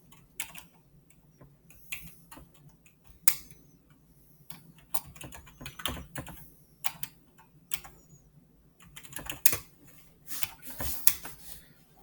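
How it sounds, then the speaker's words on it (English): Typing on a computer keyboard, with irregular bursts of crisp key taps and clicks across twelve seconds, some clusters quick and dense and others sparse, close and fairly quiet. "Ooh, typing"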